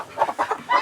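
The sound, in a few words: chicken clucking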